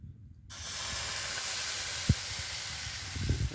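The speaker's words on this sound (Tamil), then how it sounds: "இப்போ இதில் தோசை ஊற்றிக்கலாம்" Herbal balloon-vine dosa batter with green chili and cumin hits a hot griddle, setting off a sudden, steady, close sizzling hiss that continues to the end.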